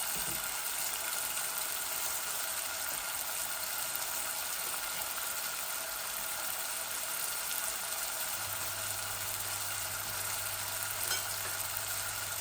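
Onion and garlic fry in a pan with a little water added, giving a steady, soft hiss and sizzle that stays even throughout, with a faint low hum joining near the end.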